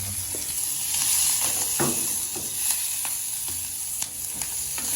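Onions sauté in a hot pan with a continuous close sizzle and hiss, broken by occasional scraping stirs and light clinks.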